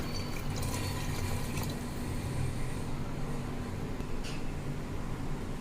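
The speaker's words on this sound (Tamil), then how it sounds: "ஒரு டம்ளர் தண்ணி மட்டும் சேர்த்துக்கிறோம்" A tumbler of water pours and splashes steadily into a pressure cooker, a continuous liquid rush with light dripping, fairly quiet and close.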